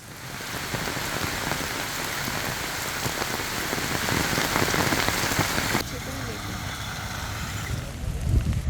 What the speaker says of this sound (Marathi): जोरदार पाऊस कोसळताना दिसतोय